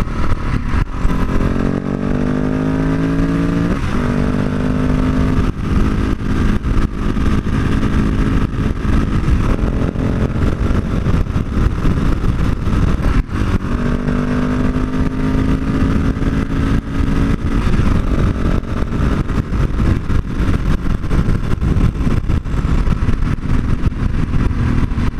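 A supermoto motorcycle rides along continuously, its engine revving up and shifting through gears with rising and falling pitch, loud and close throughout, with wind noise and no talking.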